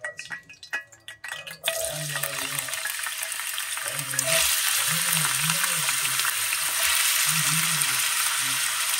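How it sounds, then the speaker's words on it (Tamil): Potatoes frying in an iron pan for a Thanksgiving family lunch, a steady close hiss of sizzling oil that swells louder midway, with occasional low clatter and stirring underneath. "அதில் போட்டு தான் உருளைக்கிழங்கு ஃப்ரை பண்ணலாம் அப்படின்னு வச்சுருக்கேன்."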